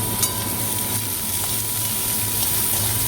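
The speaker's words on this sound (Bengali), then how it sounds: "রসুন আর লঙ্কা ফোড়ন দিয়ে পেঁয়াজটা ছেড়ে দিয়েছি" Onions frying in oil with garlic and chilli, a steady close sizzle and crackle that holds evenly throughout with no voices.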